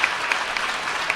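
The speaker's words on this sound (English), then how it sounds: "So give a round of applause for that" A room full of people applauds at a book launch, steady dense clapping with a few sharper claps standing out, close and sustained throughout.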